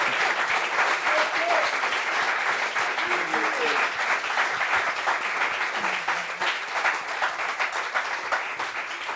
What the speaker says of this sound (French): Applaudissements pour lui.